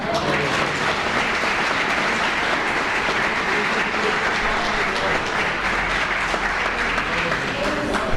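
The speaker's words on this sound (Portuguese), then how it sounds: "Vocês podem aplaudir a Jesus." Applause from a church congregation during a Sunday school service, a dense, steady wash of clapping that fills the whole stretch at a loud, even level with no breaks.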